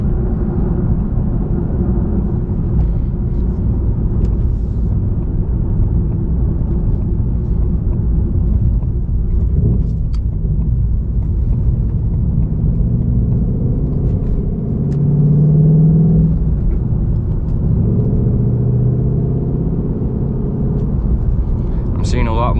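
Ford Mustang cruising on a road, with a steady low engine and tire rumble from inside the cabin throughout, someone talking over it.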